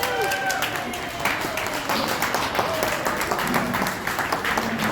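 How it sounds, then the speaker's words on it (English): Audience applause at a cooking class, a dense, sustained burst of many hands clapping that fills the room, loud and continuous with a few voices mixed in. "will you please give Farhan and Elaine another round of applause"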